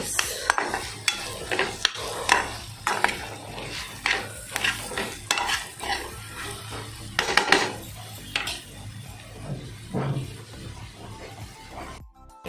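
Okra (bhindi) stir-fried in a pan for a Goan bhindi fry, with a busy clatter of a metal spoon scraping and knocking against the pan over a soft sizzle, close and continuous before stopping abruptly.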